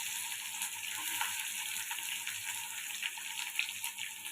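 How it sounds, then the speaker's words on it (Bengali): Onions frying in a pan give a soft, steady hiss and crackle close by, with light uneven pops and no talk. "পেঁয়াজটা একটু ভেজে একটু হালকা লাল লাল করে নিলাম"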